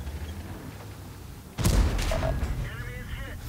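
A T110E5 heavy tank in World of Tanks on Sacred Valley fires its cannon once, a sudden loud boom that rings out into a lingering rumble over a quieter engine drone before it.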